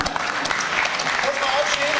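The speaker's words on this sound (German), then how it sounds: "kleiner Applaus für den Mann vom Metal Hammer hier vorne." Small round of applause at a press conference for a German TV show, a short steady patter of clapping under ongoing talk.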